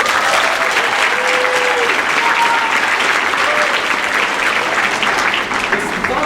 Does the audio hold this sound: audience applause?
yes